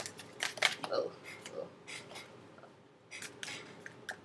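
Tarot cards are shuffled by hand in a brisk run of papery riffles and rubs, close and fairly quiet, with a brief voice heard among them.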